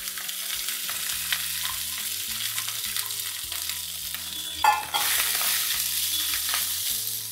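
Rice tipped into a pan of fried peanut masala with curry leaves and turmeric, frying steadily with clear stirring scrapes and a louder sizzle burst partway through.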